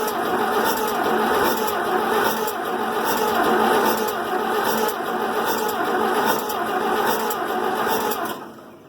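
An old, dead tractor engine cranks with the clutch pushed in, a loud, steady mechanical churning with a faint pulsing rhythm that runs for several seconds, then drops away at the end.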